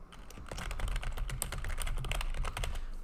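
Typing on a computer keyboard while entering a slash command for a Discord bot, a quick irregular run of crisp key clicks, close and clear, continuing for a few seconds with no talking.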